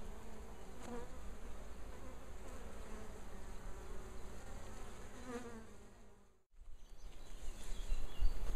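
Honeybees from a swarm being moved from a swarm basket into a hive give a steady, close buzz that drops out for a moment before returning louder.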